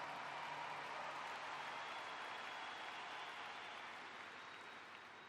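A big crowd claps in sustained, dense applause at a memorial event, a broad even roar of hands that slowly tapers off toward the end.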